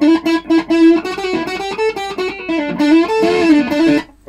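An electric guitar with a custom-wired scratchplate plays distorted through its pickups, a melodic line of sustained, gritty notes, loud and close, ending with a held note.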